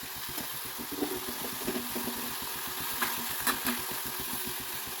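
Grated carrot and orange fry in oil for homemade hair oil, a steady low sizzle and bubbling with a faint hum, quiet and continuous, with no talking.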